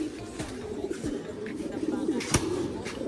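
Racing pigeons coo close by, with repeated low throaty coos over a steady murmur of cooing from the flock. A few faint clicks are mixed in.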